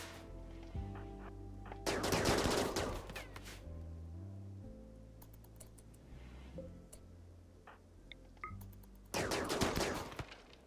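Gunfire from the colony game Rimworld, two loud bursts of rapid shots a few seconds apart, with game music playing beneath.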